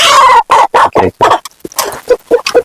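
Peruvidai chickens in a breeding pen cluck loudly and close by in a quick run of sharp, separate calls, followed by several softer, choppier clucks.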